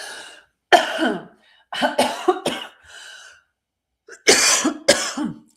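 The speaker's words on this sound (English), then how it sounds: "get that cough out." A series of harsh, close coughs come in bursts, two or three at a time with short pauses, loud and alone.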